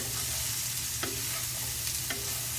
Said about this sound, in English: You have to gently stir,